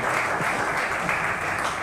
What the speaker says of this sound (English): please, a round of applause for all the organizers